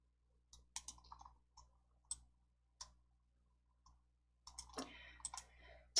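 Sharp, isolated computer mouse clicks while working in PowerPoint, spaced irregularly in a quiet room, ending in a quicker cluster of clicks and taps.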